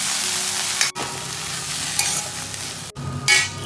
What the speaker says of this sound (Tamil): நான் ஸ்டவ் ஆஃப் பண்ணிவிட்டு சும்மா அந்த சூட்டில் போட்டு அப்படியே 2 பெரட்டேன்